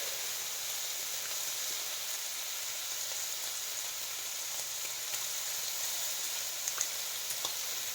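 Three slices of bread frying in a pan for breakfast, a steady close sizzle that holds even throughout with a few faint pops, no talking.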